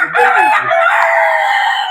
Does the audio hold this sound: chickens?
yes